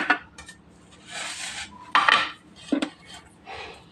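A plate picked up and handled in a kitchen while making chicken, with several clinks and scrapes of crockery and cutlery, close and fairly quiet, in short irregular bursts.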